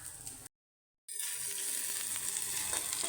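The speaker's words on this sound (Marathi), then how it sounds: "आता मी त्याला एक दहा मिनटात बारीक गॅसवर भाजून तयार करणार आहे" Fish fillets coated in Kolhapuri masala and semolina fry in a pan over a low flame, giving a steady close sizzle that cuts out briefly and then continues evenly without talk.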